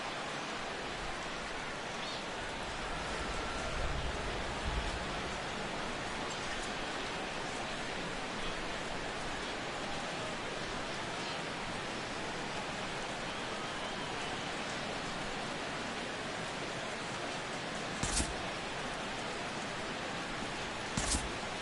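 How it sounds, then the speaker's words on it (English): Steady rain falls over a Major League Baseball game in 2017, a broad even hiss holding at the same level throughout, with a couple of brief sharper bursts near the end and no talk. "the rain continues to fall here"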